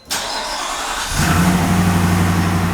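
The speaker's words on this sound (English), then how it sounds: "Well, let's start it up and you can hear." A twin-turbo Shelby F150 pickup truck engine cranks briefly and fires, then settles into a steady, loud rumbling idle close by with no talk.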